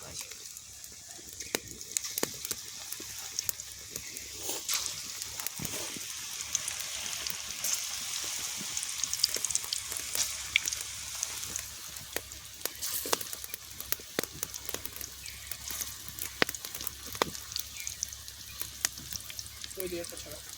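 Cauliflower pakoras frying in hot oil, a steady crackling sizzle with sharp pops scattered throughout, loud and close, with no talk over it.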